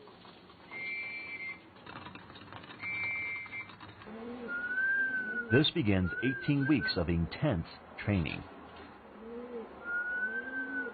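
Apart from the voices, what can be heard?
pigeons cooing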